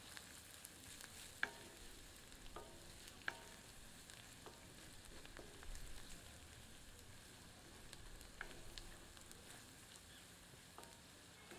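Turmeric and sambar masala stirred together in a pan for moong dal khichdi, a soft steady sizzle with scattered light clicks and scrapes of a spoon against the pan, fairly quiet.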